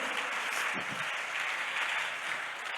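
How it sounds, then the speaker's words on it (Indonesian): Audience applause for a police chief at a stand-up comedy show, a steady, dense wash of clapping throughout the short stretch. "Tepuk tangan dong buat Pak Kapolres."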